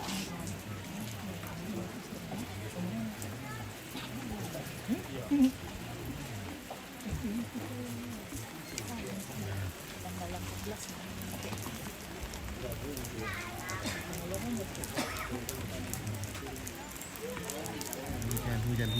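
Rain falling during a funeral gathering at a village home in Toraja, a continuous dense patter under background chatter and movement, with people talking throughout.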